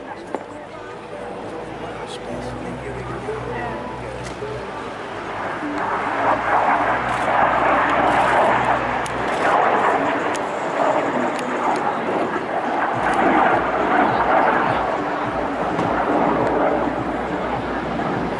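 A MiG-15 jet fighter, painted as Yuri Gagarin's Red 18, flies a display at the Bournemouth Air Festival, its engine a continuous distant roar that swells and fades under a commentator talking throughout.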